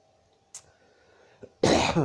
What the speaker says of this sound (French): je commence à tousser, j'ai besoin d'oxygène